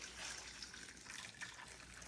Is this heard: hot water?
yes